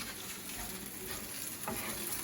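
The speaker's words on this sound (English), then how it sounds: "On a bit of a sizzle on this one" Steady, dense sizzling of food frying in a pan, with an occasional scrape of stirring; close and continuous, no voices.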